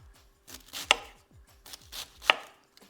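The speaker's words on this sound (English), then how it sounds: "you're gonna cut them into just little pieces" Knife slicing a fennel bulb into thin pieces on a cutting board, a rapid run of crisp chopping strokes with a few sharper, louder hits, close and alone.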